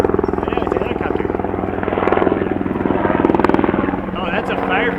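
Firefighting helicopter flying over in a forest, its rotor chopping in a loud, pulsing throb that swells and holds close overhead, with people talking beneath it.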